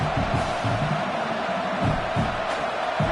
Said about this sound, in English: this home crowd getting involved right from the start